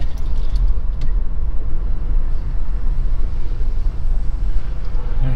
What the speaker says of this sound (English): Cars everywhere.